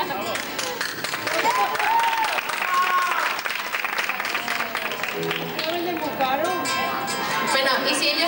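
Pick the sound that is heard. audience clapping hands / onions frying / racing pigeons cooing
audience clapping hands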